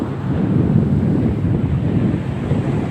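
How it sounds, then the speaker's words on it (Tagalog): Big waves and strong wind out at sea make a steady, loud, rushing roar with constant buffeting wind noise on the microphone, and no voices. "May laking alon dun sa laot"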